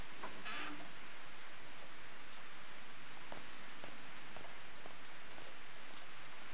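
Soft, steady hiss of rainfall in a video game, even and continuous with no other sounds standing out.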